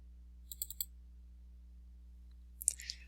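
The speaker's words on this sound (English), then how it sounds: "Double-clicking an item." A computer mouse double-clicks while selecting clip art in Microsoft Publisher: a quick, faint cluster of light clicks near the start, then another soft pair of clicks later, with no talking over the quiet room hiss.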